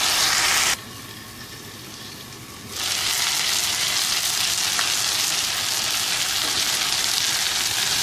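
Chicken tikka boti pieces pan-fry in oil with a loud, dense sizzle that dips quieter for a couple of seconds when turned, then surges back to a steady hiss.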